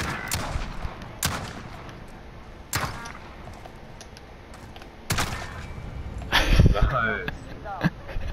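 Sharp gunshots in a first-person sniper video game ring out as a few separate loud cracks spaced seconds apart, under near-constant excited player chatter.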